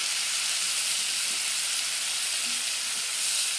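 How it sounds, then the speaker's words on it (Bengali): Steady, close sizzling and hissing of onion and green chilli paste sautéing in a pan, a continuous bright frying sound with no talk. "এখানে আমি দিয়ে দেব পরিমাণ মতো নুন একটা পেঁয়াজ আর দুটো কাঁচা লঙ্কা বাটা এবারে ভালো করে কষিয়ে নেব"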